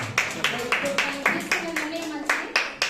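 Children in a church gathering clap together in a steady rhythmic beat, about three claps per second, close and fairly loud, while a voice talks or chants along.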